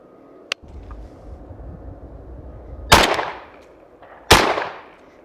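Two loud, sharp shotgun blasts from a MAC 1014 at an outdoor range test, spaced about a second and a half apart, each with a brief fading tail, after a faint click and low background rumble.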